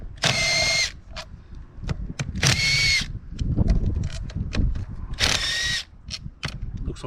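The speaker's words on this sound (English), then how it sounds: "Got myself an impact driver with the right socket." Impact driver with a socket undoing 9–10 mm bolts on a ride-on mower transmission: three loud, close whirring bursts with short hammering rattles, separated by clanks and handling noise.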